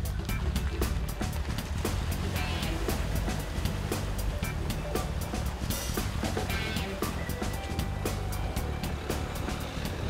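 A Dacia Duster driving through standing water on muddy, rutted tracks after heavy rain, with continuous loud engine rumble, splashing and sloshing water, and repeated knocks and thuds from the rough ground.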